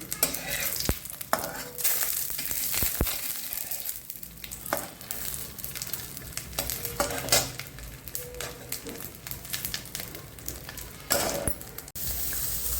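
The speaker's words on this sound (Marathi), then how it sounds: "वाटण खोबरं घेतलं आता ते छान तेल टाकून भाजून घेणार आहे" Grated coconut roasting in oil in a pan, with a steady close sizzle and repeated scraping stirs and utensil knocks against the pan, no talking.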